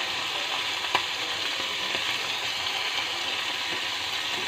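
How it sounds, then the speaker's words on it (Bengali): Small morala fish fry in hot oil in a pan, a steady, close hiss and crackle with a few soft scrapes and clicks. "এই মাছটার এক পিঠ মোটামুটি ভাজা হয়ে যাচ্ছে"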